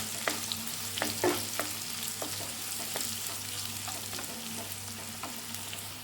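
Chopped onions fry in oil for upma, giving a steady gentle sizzle broken by repeated clicks and scrapes of a spoon stirring against the pan, close and fairly quiet.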